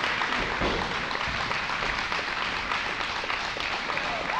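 A crowd at an independent wrestling show claps and cheers in a sustained, dense burst of applause, fairly close and loud, with no clear talk over it.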